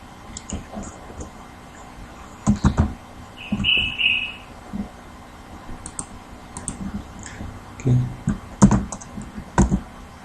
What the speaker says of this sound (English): This is a keyboard.